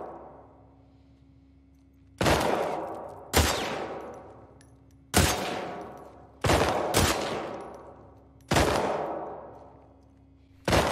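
Single heavy gunshots in The Last of Us Part 2 crack out one at a time, about seven blasts spaced a second or two apart, each loud and booming with a long echoing decay over a quiet hum.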